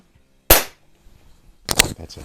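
A Snowpeak SP500 .177 break-barrel spring air rifle fires outdoors: a sharp, close crack, then a second, rougher burst of clatter about a second later, with near silence around them.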